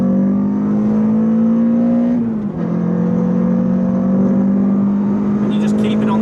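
Renault Clio 182 engine held at around 5,000 RPM after a downshift. It is a loud, sustained in-cabin drone that briefly dips at the gear change and then climbs steadily.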